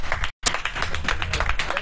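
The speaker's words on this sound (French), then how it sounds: "Applaudissements pour la terre" A crowd claps at a gathering in a short, brisk burst of dense applause, fairly loud and close, with a brief gap near the start and faint voices mixed in.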